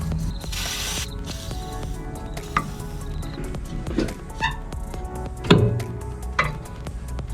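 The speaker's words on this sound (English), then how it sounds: "I'm going to spray these with WD-40 just so it helps them slide out." Short hissing bursts of WD-40 sprayed from an aerosol can onto Toyota Celica exhaust parts, with metallic clicks and scrapes between them in a workshop setting.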